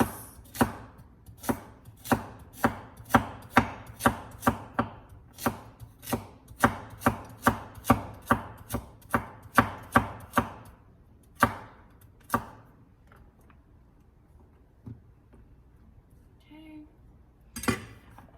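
Carrots being chopped on a cutting board with a knife: a brisk, steady run of sharp, close knife strikes for about twelve seconds, then a few scattered chops with quiet gaps between them.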